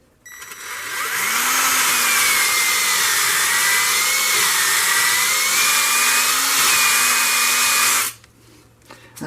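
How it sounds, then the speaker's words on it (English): A 120-grit hone spins inside the cylinder bore of a 1939-1940 Briggs and Stratton model A engine, giving a loud, steady whining grind with a wavering pitch for about seven seconds before stopping abruptly. "that's what I got out of about maybe 7 seconds in total worth of honing"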